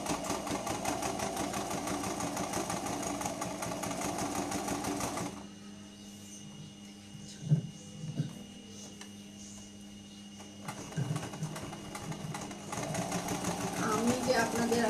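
A tailoring sewing machine runs a top stitch (chap stitch) in steady rapid clatter, pausing midway with a few soft clicks and handling sounds before whirring again, with someone talking over much of it.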